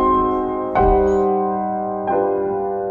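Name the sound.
cadence with German augmented sixth, fifth to tonic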